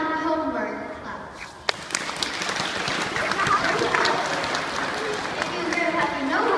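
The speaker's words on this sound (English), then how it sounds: "If you agree with having homework, clap." Schoolchildren in an assembly audience break into clapping after a brief lull, a dense, steady crowd applause that carries on to the end, with some voices and shuffling mixed in.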